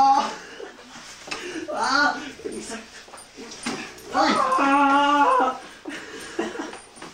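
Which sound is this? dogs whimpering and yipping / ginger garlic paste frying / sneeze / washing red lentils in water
dogs whimpering and yipping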